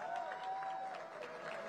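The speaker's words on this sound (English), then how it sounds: "Arman Bhatia deserves a louder applause." Audience applause fills the center court at the pickleball final of the PWR DUPR India Masters 2024, a steady crowd clapping throughout with a faint sustained tone running under it.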